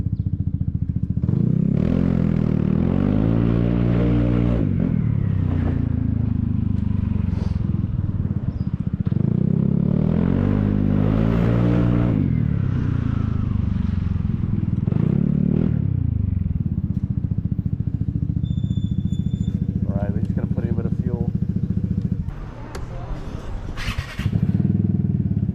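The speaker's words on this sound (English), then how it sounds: "Sounds good with this pipe, but no baffle. Sounds like a little single cylinder MX bike." A Vespa HPE SuperTech scooter running a modified exhaust with the baffle removed, ridden on the road: a loud, raspy single-cylinder drone that rises and falls through several rev-ups and gear changes, with wind rush throughout.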